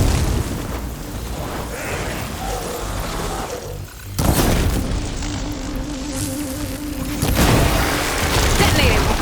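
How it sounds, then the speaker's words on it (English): Glowing crystals detonate in the video game Horizon Forbidden West, loud booming blasts with crackling bursts, one near the middle and another toward the end, over dense game noise and music. "See those glowing crystals? Takes one hit to detonate."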